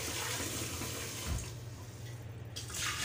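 Raw beef for nilagang baka rinsed under a running faucet, a steady close splashing rush of water that flows continuously, with no voices.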